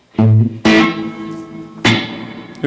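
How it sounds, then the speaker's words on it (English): Electric guitar chords from a guitarist's rig ring out in a few strummed hits, each tail washing into a big, spacious reverb that lingers between strikes. "a big reverb sound if you can hear it"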